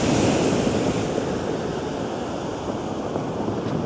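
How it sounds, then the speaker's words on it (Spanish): Heavy ocean surf pounds the shore along the El Salvador coast, a loud continuous roar of breaking waves with wind buffeting the microphone, no voices. "Mira cómo pega el océano, pega fuerte aquí, buen oleaje."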